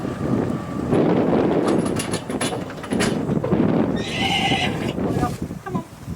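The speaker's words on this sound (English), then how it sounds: "that's a miniature horse in the car" A miniature horse gives a loud, close neighing whinny with a rising, breathy call, surrounded by wind noise and rustling, while people talk around it.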